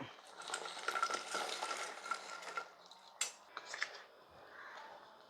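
Fish pieces frying in hot oil on a low flame for homemade fish pickle, a steady close sizzle with crackling pops that eases off toward the end, with no talking.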